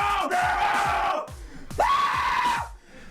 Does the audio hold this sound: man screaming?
yes